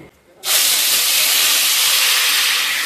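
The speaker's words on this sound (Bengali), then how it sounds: "এবার আমি এর মধ্যে দিয়ে দেবো সেই ম্যারিনেট করে রাখা পনিরটা।" Marinated paneer hits a hot pan with a sudden loud hiss that erupts about half a second in and holds as a steady, close, broadband sizzle to the end.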